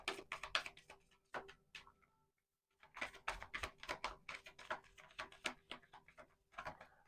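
Tarot cards shuffled and slid in quick bursts of crisp, papery riffles and flicks, close and fairly quiet, with a short pause partway through before the shuffling resumes.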